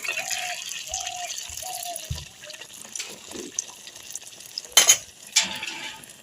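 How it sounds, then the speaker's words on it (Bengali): Poa pitha cakes frying in hot oil in a wok, a soft, fairly faint bubbling sizzle with a few short tonal tones early on and a couple of sharper clinks and splashes later. "কড়াইতে তেল গরম হয়ে গেছে, এবার আমি পিঠেগুলো বানিয়ে নেব।"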